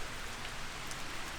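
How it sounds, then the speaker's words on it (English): Steady rain falls outside a rowing club, a dense, even hiss of drops spattering on surfaces nearby, with no voices. "the rain has picked back up"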